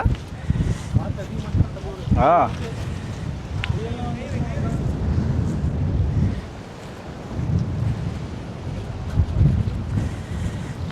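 Strong wind at a beach in Chennai buffets the microphone in steady gusts, with a rumbling low roar and voices talking loosely over it.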